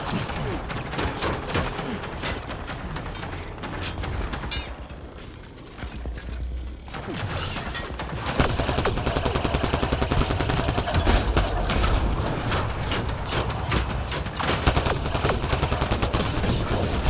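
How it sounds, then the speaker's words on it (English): Gunfire in the game Mass Effect: Andromeda: dense rapid shots and mechanical clatter, sparser at first and then a sustained loud barrage, with in-game voices heard at times. "Incoming fire."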